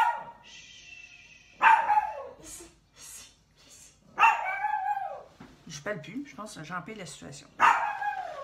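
A dog barks loudly three times at spaced intervals, with yips and whimpers between, while someone talks over it in French.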